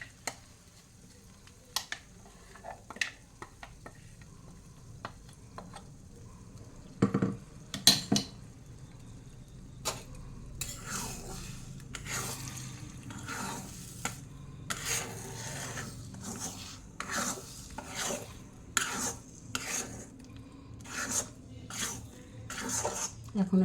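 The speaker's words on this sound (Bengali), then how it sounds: "এখন এটাকে ভালো করে নাড়াচাড়া করে একটু শুকিয়ে নেব।" Chana dal paste is stirred in ghee in a kadai, a metal spoon scraping and knocking against the pan in a steady run of clatters and rubs that grow busier and louder after the first few seconds.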